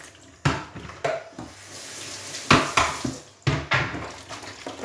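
Chanterelle mushrooms being washed in a sink of water, with repeated bursts of running tap water and sloshing separated by quieter splashing, close and fairly loud, no talking.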